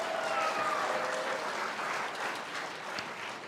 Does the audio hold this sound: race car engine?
no